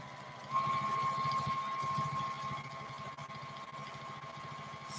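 A home sewing machine quilting feathers runs in a steady, fast mechanical chatter with a faint whine, close and continuous throughout.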